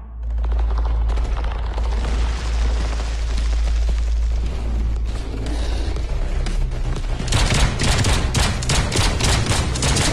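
Sustained rapid pistol gunfire from the sci-fi space adventure game Into Black, loud and dense with low booming rumble, intensifying into sharper crackling bursts near the end.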